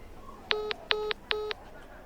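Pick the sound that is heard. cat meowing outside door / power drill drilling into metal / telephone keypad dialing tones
telephone keypad dialing tones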